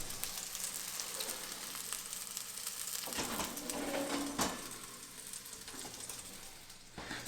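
Miso-marinated cod fillets sizzle and crackle steadily in a hot pan, a dense close frying hiss with a few sharper pops and scrapes, no talk.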